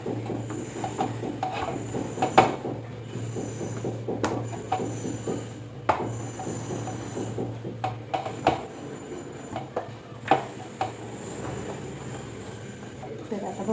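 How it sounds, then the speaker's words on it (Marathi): Pearl millet dough is kneaded by hand, producing a run of soft, irregular rubbing and pressing thumps with occasional sharper slaps. Each stroke sounds close by. "जेवढं होईल ना तेवढी छान पीठ मळून घ्यायचं"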